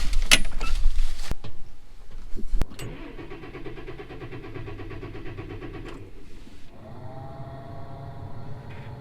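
A New Holland T8050 tractor's engine cranks hard, struggling with repeated starter churning before it catches and settles into a steady mid-pitched idle, close and loud, preceded by cab door and switch clicks.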